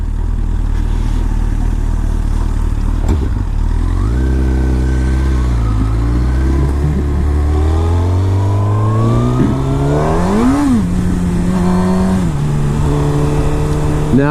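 A 1000cc supersport motorcycle revs on a wet, slick road, its engine note climbing and dipping as the rear wheel spins, loud and close against steady wind roar.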